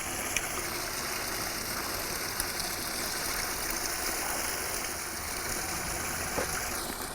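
Steady, loud rush of a church grotto waterfall turned up to a high setting, continuous splashing water with a faint mechanical pump hum underneath, close and unbroken throughout.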